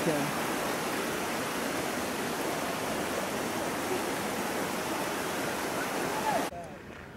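Steady broadband rush of a river flowing through a park, continuous and fairly loud, like water running over rocks, cutting off abruptly near the end.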